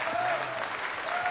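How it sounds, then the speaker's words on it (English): A short burst of applause from a crowd at a live music show, clapping steady and moderately loud, with faint voices mixed in. "Let's get one more round of applause for everybody who played here tonight."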